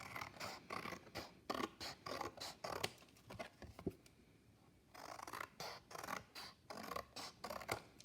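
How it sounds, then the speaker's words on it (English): Scissors snip repeatedly along the edges of a cardboard base for a collograph print, a series of close, crisp cuts in an uneven rhythm with a short pause midway. "I'm going to trim up these edges just a little bit to make sure they're nice and smooth."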